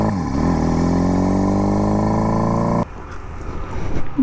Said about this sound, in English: like a Harley brother revving my engine like this